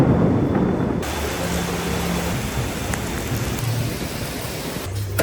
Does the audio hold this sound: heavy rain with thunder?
yes